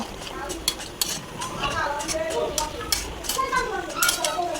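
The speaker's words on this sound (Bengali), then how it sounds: "তো ভালোভাবে আবারও নেড়ে চেড়ে নিচ্ছি" Achari beef with chickpea lentils stirred in a pot, producing repeated scraping and clinking of a spoon against metal amid soft sizzling, close and moderately loud, with a voice speaking over it.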